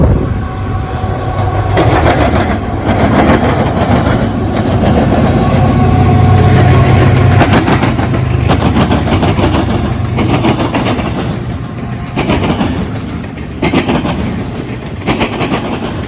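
A freight train hauling autoracks rumbles past near Fostoria with a continuous loud roar of wheels and wagons, punctuated by repeated sharp clanks and bangs as the cars pass, no voices.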